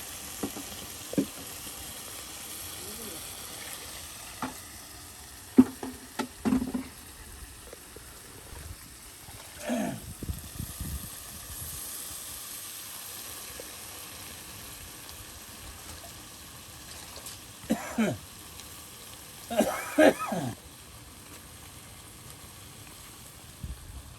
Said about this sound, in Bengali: আর এখন সেই মিষ্টি আলুর শাকগুলো দিয়ে দেওয়া হবে।